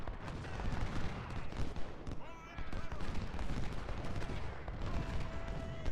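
Canister shot artillery fire in the video game Ultimate General: Civil War, a dense rolling clatter of booms and crackling volleys with battle din throughout, and a voice speaking over it.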